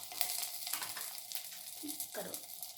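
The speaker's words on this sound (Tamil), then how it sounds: "காஞ்ச மிளகா, எல்லாத்தையும் நல்லா வதக்கிக்கலாம்" Garlic, curry leaves, coriander, green and dried red chilies sautéing in hot oil in a pan for horse gram rasam, a steady close sizzle with stirring scrapes throughout.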